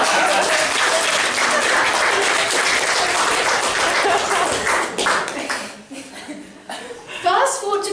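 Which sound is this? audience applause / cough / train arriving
audience applause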